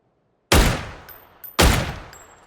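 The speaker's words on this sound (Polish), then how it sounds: "Są strzały jakieś." Two loud, close gunshots in the battle royale game PUBG, each a sharp crack with a decaying tail, about a second apart and with no talk over them.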